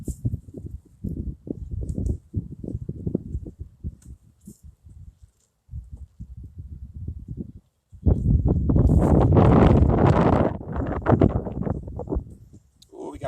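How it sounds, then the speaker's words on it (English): Gusty wind roars loudly across the microphone in the second half, following a stretch of steady outdoor talking at a beehive being smoked. "It's a little windy."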